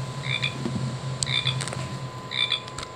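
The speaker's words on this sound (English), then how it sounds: "Pacific tree frog." A Wild Republic Audubon toy sounds a Pacific tree frog call, three quick raspy two-part croaks repeated at a steady pace, close and fairly clear over low hum.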